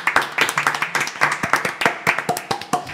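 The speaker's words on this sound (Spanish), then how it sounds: "Un aplauso." Clapping after a Spanish interview with León Benavente, a fairly small number of hands striking in a quick, uneven rhythm, close and crisp, with individual claps clearly separated.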